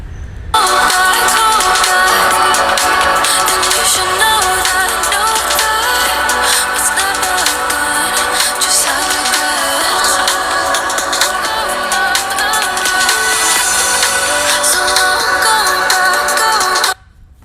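Music plays loud and bright through a Samsung flagship smartphone speaker during an audio test, starting abruptly and holding a dense, full mix for about sixteen seconds before cutting off. No one speaks.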